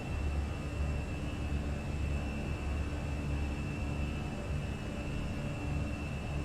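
A Fenix A320 in Microsoft Flight Simulator holds takeoff and climb thrust, its engines a steady, even broadband roar with a faint high whine and no voices.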